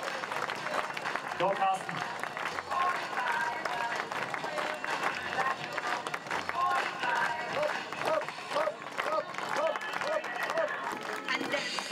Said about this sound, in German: Unterstützung vom Publikum und Applaus. Klatscht mal sie ein.